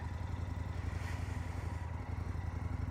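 An Indian FTR 1200 motorcycle engine idles with a steady, throbbing low rumble, close by and unbroken, with no voices.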